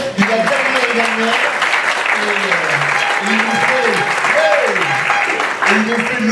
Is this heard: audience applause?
yes